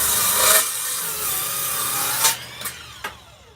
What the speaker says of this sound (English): This is totally cordless. It's a miter saw.